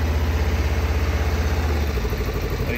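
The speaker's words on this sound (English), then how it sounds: "that's it, that's idling there" A 2006 Kawasaki KLE 500 carbureted motorcycle engine idles low with the choke off, a steady close-up low throb that thins out slightly near the end.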